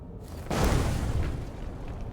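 A deep bomb explosion booms in a video game, a single heavy blast that starts abruptly and then rumbles and fades over about two seconds.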